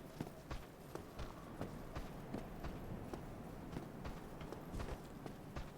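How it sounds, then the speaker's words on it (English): Footsteps in the video game Dark Souls, set in the Undead Asylum: a steady run of thudding steps repeating about every half second over a constant ambient drone, fairly faint, with no talk. "I hear footsteps."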